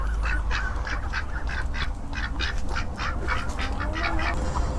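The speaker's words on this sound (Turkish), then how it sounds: "Oo, burada ördekler var." Ducks quacking in a quiet village farmyard, a rapid series of nasal honking calls overlapping at close range above a steady low background rumble, with no talk.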